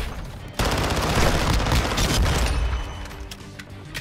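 Hip-fired VEL 46 submachine gun in Modern Warfare 2, a sudden loud, sustained spray of rapid gunfire mixed with booming battle noise that gradually thins out.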